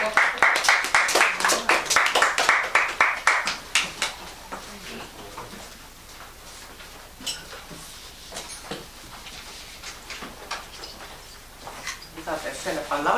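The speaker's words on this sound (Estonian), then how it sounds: "Kutsume ta sisse aplausiga." An audience at a poetry ballad premiere reading claps in a dense, rhythmic burst for about four seconds, then sparse scattered claps continue under quieter voices before clapping picks up again at the end.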